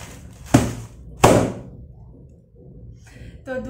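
Two sharp, loud bangs from a big inflated plastic bag bursting, the second slightly heavier, each followed by a short crackling decay, then a quieter stretch with brief rustling and a hint of voice at the end.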